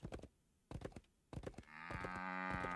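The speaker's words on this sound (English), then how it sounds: "So somebody's got some cows." Cows low in the Wild West Dynasty game, a sustained deep moo over the last second, preceded by sharp clicks of keyboard keys being pressed in short bursts nearby.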